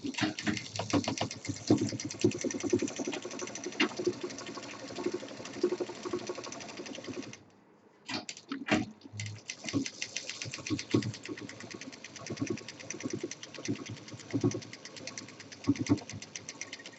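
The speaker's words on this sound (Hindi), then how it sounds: "दूसरा साइड भी सिल देंगे।" A sewing machine runs steadily, stitching the second side of a handmade fabric bag with a fast, even mechanical rattle, pausing briefly partway before resuming at the same pace.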